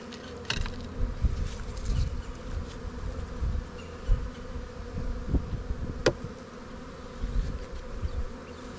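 Honey bees drone in a steady, dense buzz during an open hive inspection, close and continuous, with a few brief clicks and knocks of handled hive frames.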